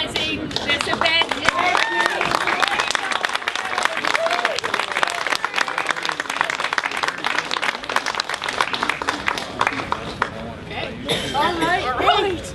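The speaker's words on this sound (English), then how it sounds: "And a huge applause for Lorraine Dick for organizing this event" A crowd at an outdoor rally claps loudly and continuously, with dense applause mixed with cheering and chatter, fading slightly toward the end as voices take over.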